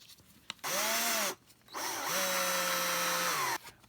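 A power driver spins a screw into an Arrma Kraton EXB RC car's rear differential and bulkhead in two bursts of whining motor, the second longer with pitch dropping as the screw tightens, close and loud.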